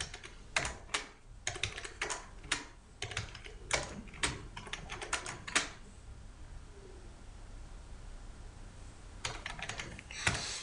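Numbers are typed on a computer keyboard in quick, close clicking bursts, then the typing pauses before a few more keystrokes return.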